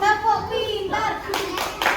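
Children in an Indonesian classroom do a rhythmic praise clap in unison: sharp, patterned bursts of hand claps that come in after a teacher's speaking voice.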